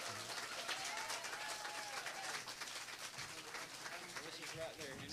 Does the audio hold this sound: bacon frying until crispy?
no